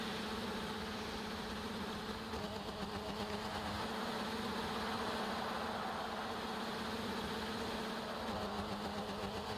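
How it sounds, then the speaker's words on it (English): Racing engine of an F1 car in the game F1 2019 at the Japanese GP, a steady droning hum that holds level throughout with no talk over it. "Can you hear his engine going?"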